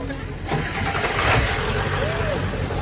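A car engine cranks and catches, settling into a rough idle, with people talking over it.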